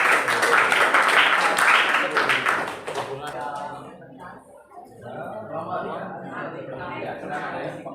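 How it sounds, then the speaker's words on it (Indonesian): A classroom bursts into loud, dense applause for student number 2 for about three seconds, then the clapping fades and people talk. "Beri tepuk tangan untuk nomor 2."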